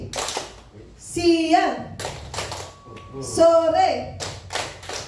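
A group claps in sharp bursts during a greeting-response clapping game, one quick clap burst answering each greeting called out; voices speak and chant between the claps.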